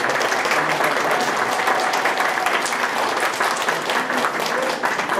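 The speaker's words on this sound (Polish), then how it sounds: "Brawa, ogromne brawa." Loud, sustained applause from an audience at a Polish Christmas carol group and nativity play festival, many hands clapping steadily and close for several seconds.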